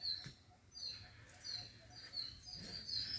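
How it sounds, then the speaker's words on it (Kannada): Birds calling on a rocky, green hillside near a temple, faint thin chirps repeating a few times over soft outdoor ambience. "ಬರೀ ಪಕ್ಷಿಗಳ ಕೂಗೇ ಇದೆ."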